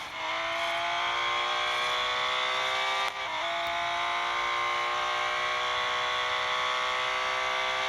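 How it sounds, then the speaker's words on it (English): Porsche 911 RSR racing car engine in a video game, a loud, steady high-pitched whine held at near-constant revs, briefly dipping once during a gear change before rising again, with no talking. "The distinctively Porsche noise"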